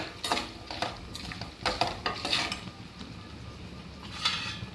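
Okra with spices stirs in a pan. Soft, irregular scraping and clinking of a utensil sits over a faint sizzle, close and quiet, with no talk.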